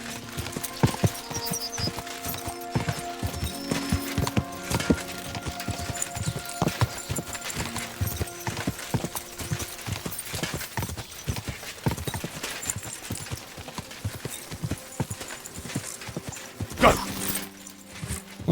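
Horse hooves gallop steadily in Kingdom Come Deliverance 2, a fast, continuous clip-clop close by, with game music and faint ambience underneath throughout.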